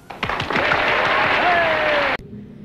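Hand clapping rings out for about two seconds, a dense burst of claps that stops abruptly into near silence, with a few softer claps at the start.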